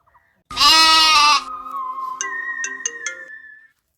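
A loud, buzzy goat bleat sounds up close, followed by a short electronic jingle of chiming notes. No voices.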